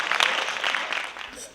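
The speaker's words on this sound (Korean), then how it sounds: "여러분 따뜻한 박수로 유시민 작가를 모시겠습니다" An audience claps warmly to welcome author Yu Si-min, a dense patter of applause that peaks early and then thins out over a second and a half.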